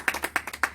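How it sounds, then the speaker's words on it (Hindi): A few hands clap for less than a second at an election campaign gathering, giving about six quick, uneven, close claps. "ताली बजाइए भाई।"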